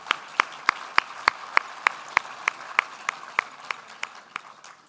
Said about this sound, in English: Let's give them another big round of applause for their achievements.